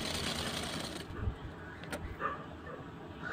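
A sewing machine runs steadily while stitching about an inch along the border of a lined blouse, with a continuous low motor whir and a few soft bumps.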